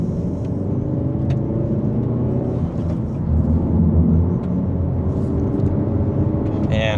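A Hyundai Elantra N pulls away in second gear in Sport Plus mode, its engine a steady low rumble that swells gently midway through a mild acceleration, heard from inside the cabin.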